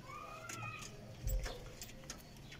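Racing pigeons on a rooftop loft giving soft low coos with a few faint chirps and rustles, quiet and close, no speech.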